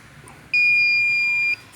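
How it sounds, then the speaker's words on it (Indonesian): A generator controller's alarm buzzer sounds a single steady electronic tone of about one second while the alternator keeps running, loud and clear over a faint background hum. "ini ceritanya sudah tercapai nih alarm yang tadi settingan itu sudah tercapai"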